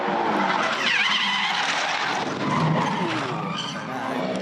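Supercars Championship race car skidding as the rear loses grip over a bump, a sustained loud tyre scrub and engine roar with rising squeal sweeps throughout, close and continuous.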